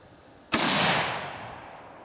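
One loud, sharp report from a Howa Snow King centerfire rifle fired outdoors, followed by a long decaying echo rolling away across open ground.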